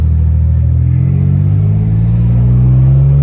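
A 30-year-old Nissan 300ZX rumbles along at low speed, its engine giving a steady, loud, close droning hum that rises slightly in pitch as the car drives.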